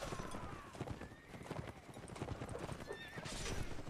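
Hooves clip-clop steadily as a horse gallops in the Napoleonic Wars video game, with whinnies cutting through the busy battle noise and faint voices in the background.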